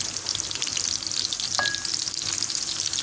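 Steady, loud sizzling of partly frozen sucuk sausage frying in a hot pan, a continuous crackling hiss with occasional small pops and stirring.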